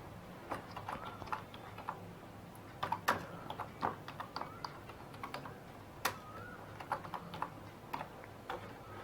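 Text is typed on a computer keyboard in a quiet room, a faint, uneven run of quick key clicks with short pauses between bursts.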